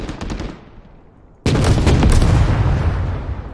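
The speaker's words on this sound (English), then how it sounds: "Ah, it's the BMP-1 that's firing that." A BMP-1 cannon fires in Men of War, a loud, sharp blast breaking in after a fading earlier shot and a brief lull, followed by a rumbling, decaying roar.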